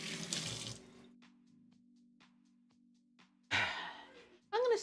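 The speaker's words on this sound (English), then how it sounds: "Rinse my hands." Hands rinsed under a running kitchen tap while cooking, a short burst of splashing water at the start and again near the end, with a quiet hum and faint clinks between, close by.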